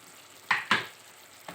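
Ground tomato paste pours into a sizzling mutton masala, with two sharp splashing hisses close together and a smaller one at the end over a faint frying background.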